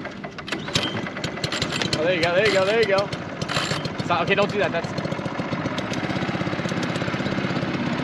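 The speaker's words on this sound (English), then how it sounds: "Why don't we get some footage of Zach starting the outboard up?" A small outboard boat motor sputters and revs unevenly as it starts, with a steady mechanical drone, while people talk and call out over the noise.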